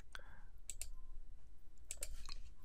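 A computer mouse gives a few sharp, quiet clicks, single and in quick pairs, close up against a faint hushed background.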